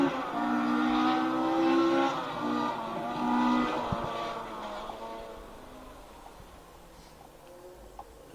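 Rally cars, including a Ford Escort MK2, racing through a stage at the Nicky Grist Stages Rally 2023, engines revving hard and rising in pitch as a car passes, then fading away into the distance.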